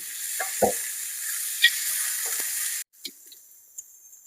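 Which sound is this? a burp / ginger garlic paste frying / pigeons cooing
ginger garlic paste frying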